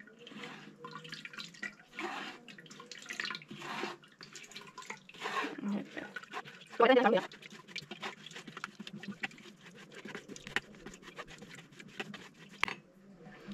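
Water poured and trickling through a strainer over soaked finger millet for a Goan nachni pudding, intermittent splashes and drips with one louder pour midway, fairly quiet and close.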